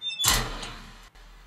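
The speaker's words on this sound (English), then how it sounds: "Sounds like a locker in the hall to me." A designed sound effect of a metal locker slamming shut, processed with convolution reverb to sit in a hallway: one sharp clanging thunk followed by a decaying reverberant tail, a brief dropout, then a low lingering hum.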